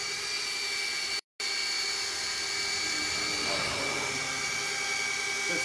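A rotary polisher whirs with a steady high whine as it works polish into a surface, continuous apart from a brief cut, with a voice talking faintly over it.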